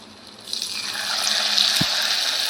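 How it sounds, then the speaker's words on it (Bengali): Battered onion-petal fritters sizzle in hot oil, a steady broadband crackle that swells after the first half-second and holds loud and continuous, with a brief low thump near the end. "এইভাবে আমি ভেজে নেব"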